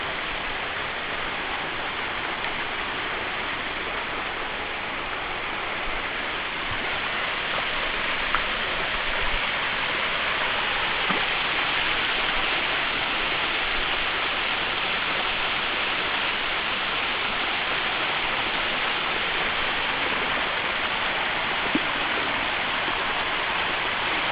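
Waterfall at Weeping Rock Falls on a low-flow day, a steady soft hiss of falling water that stays unbroken at moderate level, with a few faint ticks and no voices.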